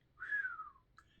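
A narrator voices a low whistle, imitating a character: a single breathy tone that slides downward over about a second, followed by a brief faint second note, with no background.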